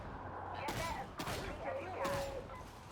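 A ranged weapon fires in Darktide in about four distinct sharp cracks spaced roughly half a second apart, each followed by a brief rumbling tail, with a voice talking faintly beneath.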